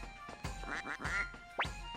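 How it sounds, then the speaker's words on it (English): Several nasal duck quacks from the video game Suikoden HD Remaster come in quick succession, close and clear, with the last one rising sharply, over a faint steady background tone. "The duck noise."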